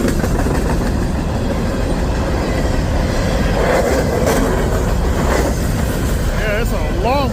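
A long freight train pulled by two locomotives with hopper cars rumbles past nearby, a loud, continuous rolling roar with engine drone and occasional squeals, while someone talks over it.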